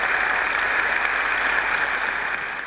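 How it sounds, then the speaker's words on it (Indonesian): An audience at a campus talk show event claps steadily, a dense, even wash of applause with no voices standing out. "kita berikan aplaus untuk Wilny"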